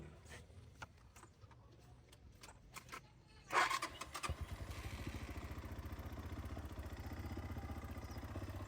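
After a few quiet clicks and rattles, an Auteco Arizona 200 motorcycle engine cranks and catches, then settles into a steady, rapid idle that continues to the end.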